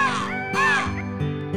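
A crow caws loudly several times in quick succession in a Gujarati children's story about a peacock and a crow, with a steady low tone underneath.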